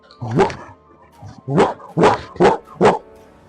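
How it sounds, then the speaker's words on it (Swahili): A small dog barks five times in short, loud yaps, with a gap after the first bark before four evenly spaced ones follow close by. "Kijibwa"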